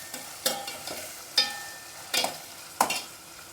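Mixed vegetables sautéing in a pan for wheat upma, with about five distinct scraping stirs of a spatula over a faint, steady sizzle, fairly close and with no talk.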